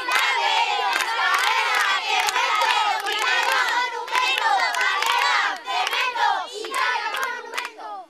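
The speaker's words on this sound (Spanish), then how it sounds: "Dos equipos, gritos de guerra que se contaban a pares." Two teams of children shout war cries in turn at an outdoor event, a loud, dense crowd chant with rhythmic bursts of voices and hand claps, continuous and close.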